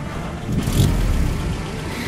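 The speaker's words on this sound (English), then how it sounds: "Turn the engine on." A car engine in the Jurassic Park video game starts up and revs, a steady broadband rumble that swells briefly partway through and holds loud to the end.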